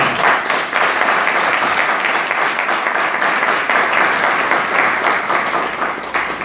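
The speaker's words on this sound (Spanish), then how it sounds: "Así que pido un gran aplauso para" A crowd at a book presentation breaks into loud, close applause, a thick continuous patter of many hands that holds steady for the whole stretch before easing slightly at the end.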